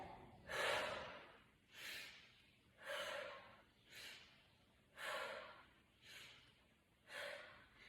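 Rhythmic breathing during a standing toning workout, seven airy inhales and exhales repeating roughly once a second, soft and close with no talking over them.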